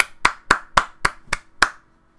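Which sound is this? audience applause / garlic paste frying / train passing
audience applause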